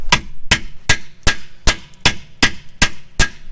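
A 2-pound sledgehammer strikes a rusted part in a steady series of nine sharp metallic blows, evenly spaced about every 0.4 seconds, loud and close, with no talking.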